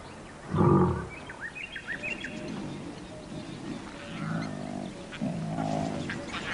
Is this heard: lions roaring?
yes